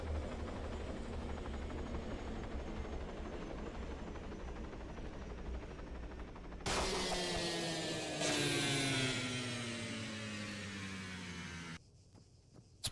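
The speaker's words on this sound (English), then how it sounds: "These helicopters are being absolute idiots, dude." Helicopters in the Arma Warlords Redux game roar with a steady rotor whine and engine drone that surges and sweeps in pitch as they fly close by, then drops away abruptly near the end.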